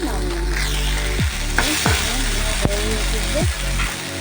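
Fish fries loudly in a pan while being stirred, a strong sizzle punctuated by several sharp spatula scrapes and knocks against the metal.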